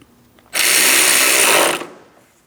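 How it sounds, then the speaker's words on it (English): A power tool running in one steady, loud burst of just over a second as it tightens a coolant reservoir mounting bolt on a 2003-2007 Cadillac CTS 3.6L V6, then winding down. "We'll tighten our mounting bolt."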